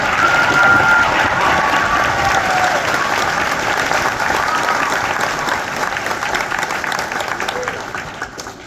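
Audience applause at the Marshwood Great Works School Veterans Day assembly: a loud, sustained roar of clapping with some cheering that slowly fades over about nine seconds.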